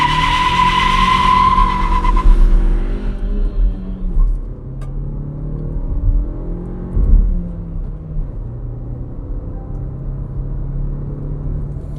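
A 2026 Renault Duster 1.3 turbo with manual gearbox pulls away at full throttle with traction control off, tires squealing briefly at the launch before the engine drones on steadily through the gears, close and loud, with no talk.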